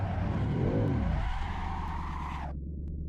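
A big-turbo Godzilla-swapped S650 Mustang in Assetto Corsa roars loudly as it accelerates, the engine note climbing and swelling with turbo spool before cutting off abruptly near the end, with tire noise underneath.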